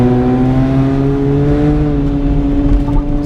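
A Honda car with a cherry bomb exhaust revs loudly and steadily in first gear, a deep droning engine note with rising harmonics held close and continuous throughout.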